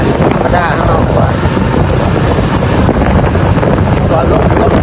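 Strong wind buffets a phone microphone outdoors in Pakse, Laos, a continuous loud roaring rumble throughout with no break.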